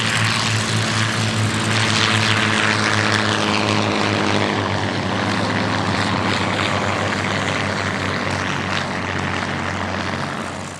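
Hawker Nimrod, Hawker Demon and Hawker Hind biplanes flying in formation at an airshow, their Rolls-Royce Kestrel piston engines producing a loud, layered propeller roar that swells and slowly shifts in pitch as they pass overhead.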